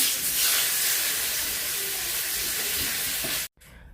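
Stuffed ash gourd pieces frying in hot oil in a small kitchen, with a steady broad hiss and sizzle that cuts off sharply near the end.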